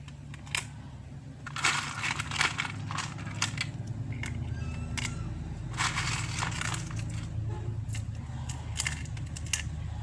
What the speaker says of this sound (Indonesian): kita akan memasukkan batu es ke atas saringan tersebut.